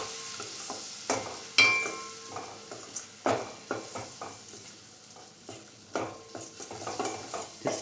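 White sauce for pasta is stirred in a pan, with a spoon scraping and tapping in an irregular rhythm and a soft sizzle underneath, close and fairly quiet, with no voices.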